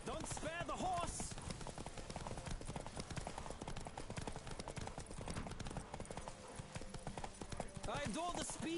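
Galloping hooves pound in a horse race in The Witcher 3, a fast, relentless clip-clop close up and loud, with vocal calls and short cries rising over the drumming at the start and end.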